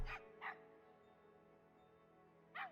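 A dog in the Planet Zoo video game gives three short, faint barks, two close together at the start and one after a quiet pause, over a low steady hum.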